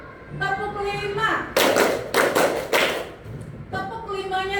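A classroom group claps in a rhythmic pattern, several loud bursts in quick succession between stretches of a teacher talking.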